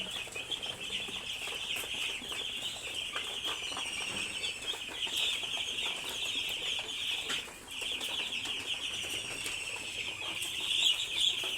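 Farm chickens kept through a rainy spell cluck and flap their wings in a continuous, busy chorus, with a steady high chirping layer over soft rustling, moderately distant and without talk.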